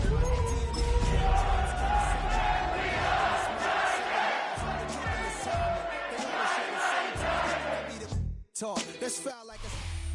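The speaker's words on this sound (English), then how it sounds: "A great crowd on hand to battle the raindrops at Nissan Stadium in Nashville" A large stadium crowd roars in the Madden NFL video game at a rainy Nissan Stadium in Nashville, a loud, dense, sustained swell that drops out briefly before resuming, with a commentator's voice entering near the end.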